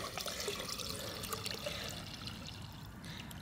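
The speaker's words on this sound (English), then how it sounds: "so I'm gonna pour in some water here." Water is poured into a container of drain cleaner lye solution while working on a seized bicycle quill stem, a steady continuous splashing and trickling with no speech.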